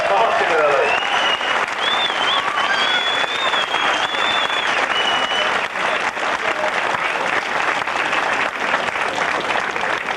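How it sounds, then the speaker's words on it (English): Audience applause for cyclist Martin Earley at the 1989 Kellogg's Criterium in Dublin: a sustained, loud, dense crowd ovation filling the whole stretch at steady intensity, with cheers and whistles rising through it. "let's give a round of applause to Martin Earley"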